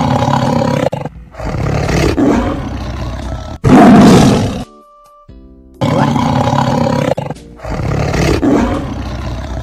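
A white tiger roar effect from a khodam gacha game bursts out in repeated loud, rough roars, separated by brief silences and short electronic chimes, with no speech over them.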